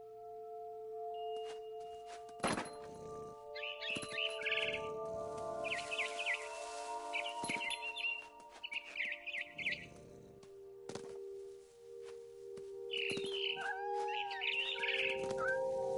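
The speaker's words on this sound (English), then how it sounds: "Then I heard chirping outside my window. It was a barn swallow going back to her nest." Barn swallow chirps ring out in the video game What Remains of Edith Finch, as sharp high twittering bursts in several clusters over a steady low tonal game backdrop, with gaps of near quiet between them.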